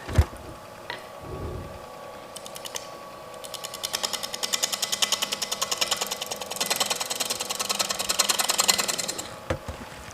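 A gouge pushed along spinning wood on a lathe for a fine thin-walled push cut gives a rapid buzzing, chattering scrape that swells and fades across several seconds over the machine's steady hum, with no voices.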